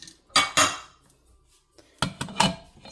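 A metal lid set onto a cooking pot of salmon sinigang with moringa, two sharp clanks close together, a pause, then a second pair of rattling metallic clatters as it settles.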